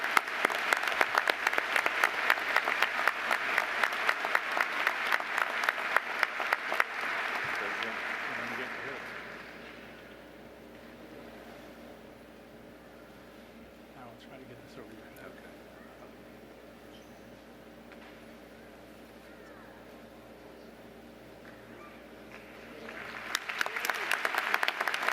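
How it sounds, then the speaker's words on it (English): A commencement audience applauds Jack Oman with dense, rapid clapping that fades away after several seconds. A long quieter stretch with faint room sounds follows, then clapping swells again near the end. "Please give a round of applause to Jack Oman."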